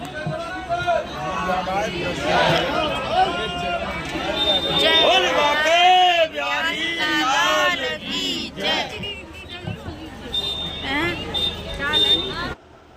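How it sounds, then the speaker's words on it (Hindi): A dense crowd of pilgrims at Radha Kund during the Govardhan parikrama on a full-moon day, a constant loud babble of many voices and shouts close around, with people talking throughout. "हम राधा कुंड पहुँच गए, देखो कितनी भीड़"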